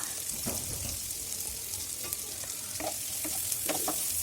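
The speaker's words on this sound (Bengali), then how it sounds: "একটা ফ্রাই প্যানে একটু তেল দিয়ে এর মধ্যে দিয়ে দেব প্রথমে আদা কুচি রসুন কুচি কাঁচামরিচ কুচি এবং পেঁয়াজ কুচি দিয়ে একটু নেড়ে নেব" Chopped ginger, garlic, green chili and onion sizzle in hot oil in a frying pan, a steady close crackle with occasional scraping stirs of a spatula.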